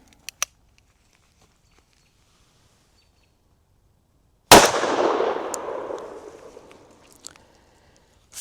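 A single loud gunshot from a 500 JRH handgun firing a 340 gr Raptor round, cracking sharply and rolling into a long outdoor echo that fades over about three seconds.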